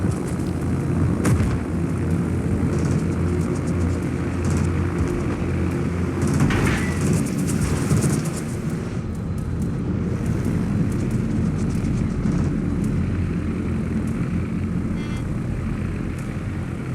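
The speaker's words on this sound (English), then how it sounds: "Engaging fighter airborne." Fighter aircraft droning overhead in the naval combat game World of Warships, a loud continuous engine roar over a low rumbling battle background.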